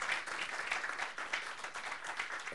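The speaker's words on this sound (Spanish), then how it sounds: "Denle un aplauso al Señor." A church congregation applauding, a dense continuous clapping that fills the room evenly throughout, with no distinct voice on top.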